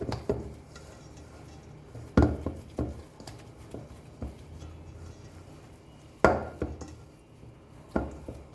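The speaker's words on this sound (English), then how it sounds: "then we have to mix this nicely" Churros batter mixed in a bowl gives scattered dull knocks and scrapes of a utensil against the bowl, close but soft, with a few sharper hits spaced irregularly.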